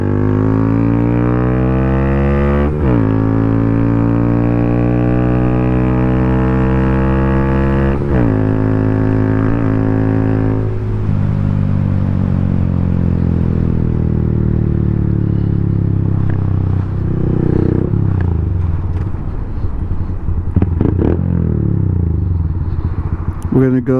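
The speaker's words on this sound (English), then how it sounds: "I hope that the battery charges up enough that we can start it up with the electric starter" A Honda Grom motorcycle with a weak battery cranks on its electric starter and catches, settling into a steady close idle with a few sharp clatters and blips near the end.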